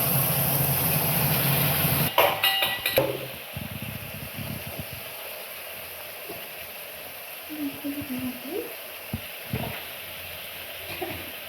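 Nigella seeds, onion and green chilli paste frying in a pan for a Bengali fish curry with aubergine, a loud sizzle and a few clatters at first, then settling into a quieter, steady hiss.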